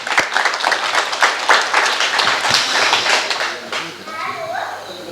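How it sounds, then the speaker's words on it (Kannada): At a live comedy event at Nisarga Mane in Sirsi, an audience claps loudly to welcome performers, a dense run of applause mixed with crowd voices that thins out near the end. "ನಿಸರ್ಗ ಮನೆಯ ಪರವಾಗಿ ಜೋರಾದ ಚಪ್ಪಾಳೆ ಮೂಲಕ ಸ್ವಾಗತವನ್ನು ಹೇಳ್ತಾ ಇದೆ"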